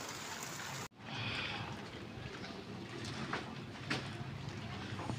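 Heavy rain comes on suddenly during a storm: a dense, steady hiss of downpour after a brief cut, with scattered louder drops and splashes close by, fairly faint overall.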